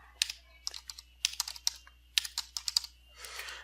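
Rapid bursts of computer keyboard keystrokes as code is typed, close and clear, in uneven clusters with short pauses between runs, no talking.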